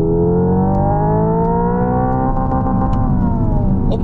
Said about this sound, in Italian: potete scegliere di guidare come se ci fosse un cambio, per esempio tenendo la marcia fino al limitatore